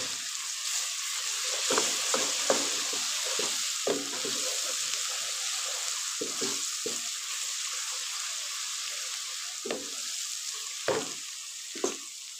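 Onions with ginger garlic paste sizzle steadily in a pot for a degi aloo gosht, a soft continuous frying hiss with occasional stirring clatters and no talk.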